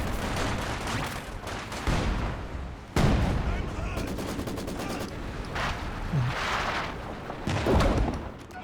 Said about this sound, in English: Heavy mortar is doing okay.